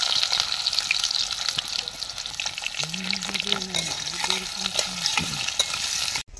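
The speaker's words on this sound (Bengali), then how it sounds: "আলুটা আমরা ভেজে নিচ্ছি আগে, শুক্তোর আলু।" Potato pieces for shukto fry in hot oil in a wok, a steady broad sizzle running throughout with scraping stir strokes and a short tonal squeak midway, close and fairly loud.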